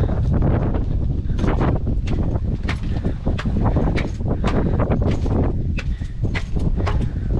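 Strong wind buffets the microphone outdoors in a constant loud roar, with gusty rustling and no talking.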